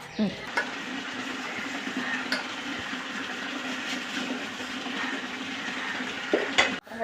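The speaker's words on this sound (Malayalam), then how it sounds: "ഈ പാത്രമൊക്കെ ഒന്ന് കഴുകട്ടെ" Pots, plates and utensils are washed in a home kitchen, with steady rinsing water and occasional clinks and knocks of metal and dishware close by.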